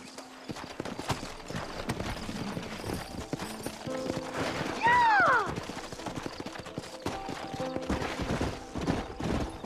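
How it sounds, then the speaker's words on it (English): Horses in Red Dead Redemption clip-clop at a steady trot close by, and one gives a short whinny midway. Quiet voices talk over the hoofbeats. "Horses are over here!"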